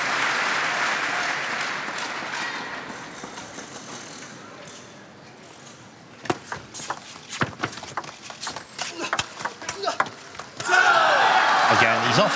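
A table tennis crowd at a world championship match in Dortmund between China and Germany cheers and applauds, a broad roar early on fading, then scattered claps and a burst of louder applause near the end, under a commentator's voice.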